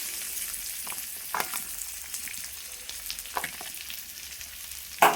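Onions frying in oil after garlic, a soft continuous sizzle broken by a few brief stirring scrapes and a sharper clink at the end.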